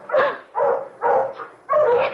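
Several dogs bark in a rapid series of four loud, close barks with short gaps, part of an old radio drama scene about a gang of men arriving with dogs.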